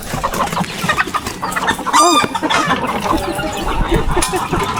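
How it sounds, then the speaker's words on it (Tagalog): Chickens cluck loudly and close in a busy outdoor setting, with a short crowing-like call in the middle and noisy activity throughout. "Aba, ayabang na ng manok namin eh."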